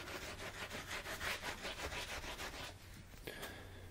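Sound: rubbing an acrylic paint palette clean

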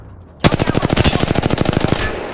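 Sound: gunfire in Apex Legends video game

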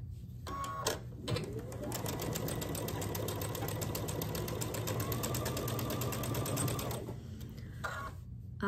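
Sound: sewing machine sewing quilt pieces together

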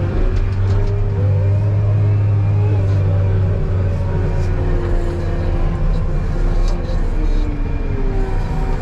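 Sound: truck engine revving as it moves

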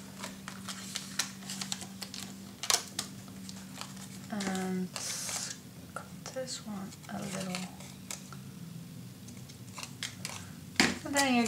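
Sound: scissors cutting paper tabs for a mini album

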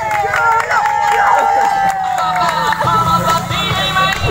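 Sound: crowd cheering for triathlon athletes

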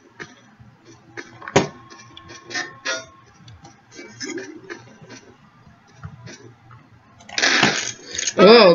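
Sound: taunt sound effects in Garry's Mod Prop Hunt, a video game

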